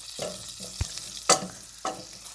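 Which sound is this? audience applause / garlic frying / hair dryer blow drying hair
garlic frying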